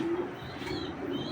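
A club pigeon at a Bangladeshi breeding farm gives a low cooing call, soft and close, a short steady note followed by a fainter echo of it, with no talk over it.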